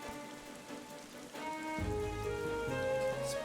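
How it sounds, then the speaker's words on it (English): Steady rain falls in Final Fantasy XIV, a continuous soft hiss of drops over layered background music that swells partway through. "Also like when it's raining in game."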